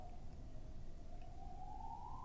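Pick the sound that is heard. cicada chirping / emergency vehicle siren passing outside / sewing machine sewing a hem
emergency vehicle siren passing outside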